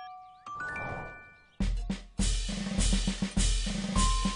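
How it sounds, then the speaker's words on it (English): A spoon taps a glass of water, giving a few bright, ringing chimes that hang and fade, followed by louder clattering knocks. "took a glass of water and a spoon and created a tinkling chime"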